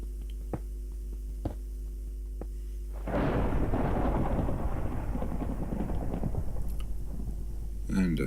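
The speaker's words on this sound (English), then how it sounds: "And a thunderstorm just starting" Thunderstorm rolling in over a Minecraft world, a broad rumbling wash of thunder and rain noise rising sharply partway through and holding steady to the end, after a quiet stretch with a few soft clicks.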